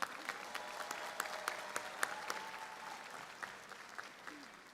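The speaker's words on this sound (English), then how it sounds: "Let's give our superintendent a big round of applause." Audience applause fills a graduation ceremony for Momentum High School, Spring ISD, in 2025: steady, dense clapping from a large crowd, sustained throughout without a break.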